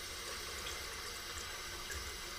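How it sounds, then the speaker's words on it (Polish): Tap water runs steadily into a sink as a safety razor is rinsed under it, a constant close hiss of flowing water with no talking. "Więc maszyna pod wodę."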